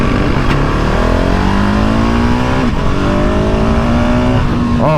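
Single-cylinder motorcycle, a Ducati Hypermotard 698 Mono or a GasGas 700 SM, revving and accelerating hard, with the engine note climbing through gear pulls. It is loud, close and continuous with no talk.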